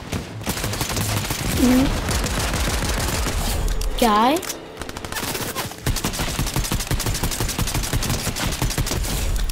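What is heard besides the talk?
gunshots in the video game Fortnite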